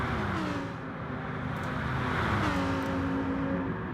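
Race cars in a racing video game, including a big Mercedes and a NASCAR, drive flat out on the Sardegna road track, giving a steady, loud engine roar with shifting harmonic whine as one passes, with no talk.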